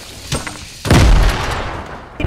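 Gunfire in a squad shooter game, mostly assault-rifle fire: a light pop early, then a heavy burst of booming shots with a lingering rumble, and a sharp final crack.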